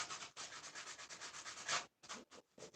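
Rhythmic scratchy strokes of a hand sanding block rub back and forth rapidly and close up on a model train layout, with short pauses near the end.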